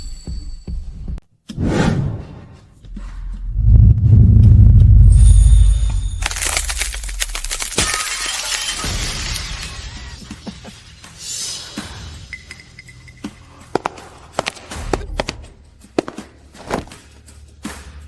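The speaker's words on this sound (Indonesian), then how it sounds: "Bersama cermin rusak ini, hancur berkeping-keping." A cracked mirror shatters into pieces in a dramatic scene, a heavy low impact and whooshing burst giving way to scattered crackling fragments and sharp tinkling hits that trail off over several seconds.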